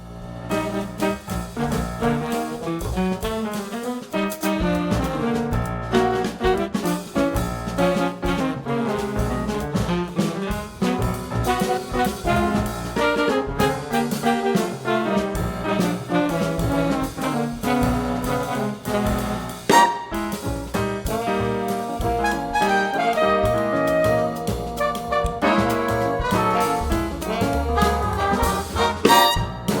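A big band plays throughout, dense brass and rhythm section swinging continuously at a steady, lively volume with no talking.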